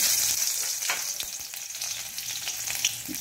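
Four crushed garlic cloves fry in a pan over low heat for beetroot chutney, giving a steady close-up sizzle with faint stirring clicks and no talking.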